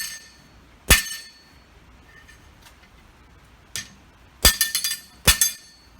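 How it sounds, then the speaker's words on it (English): Sharp metallic strikes of a hammer's round face on blacksmith tong jaws ring out, one early blow, then a quick cluster of several hits near the end, with quiet pauses between. "And then I'm going to take the round side of the hammer, hit down there."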